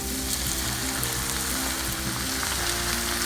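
Tomatoes and tuna fry in a pan with a loud, dense, continuous sizzle and a faint crackle, close up and alone with no voices.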